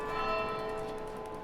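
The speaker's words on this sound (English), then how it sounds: "Bells." Church bells ringing out in the city centre of Perth, Australia, a steady sustained tone with long overlapping harmonic resonance, moderately loud and fairly close, with no talking.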